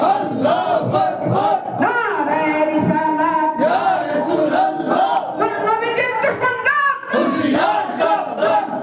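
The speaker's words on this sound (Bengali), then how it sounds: "সবাই মিলে একই তালে দাও না স্লোগান" A large crowd chants Islamic slogans against atheism in unison, loud and close, with rhythmic call-like phrases rising and falling together in a steady cadence.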